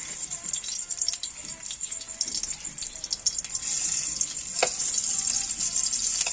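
Garlic sautéing in hot oil in a pan for a breakfast dish, giving a steady, loud, close-up sizzle that swells partway through, with a short clatter near the end.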